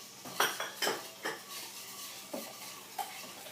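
Dry ingredients and coconut being sifted and mixed in a bowl for a gluten-free summer soup, heard as a run of close, sharp scraping and clinking strokes with short pauses between them, and no one talking.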